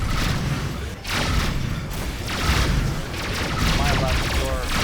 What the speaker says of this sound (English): Just started shooting.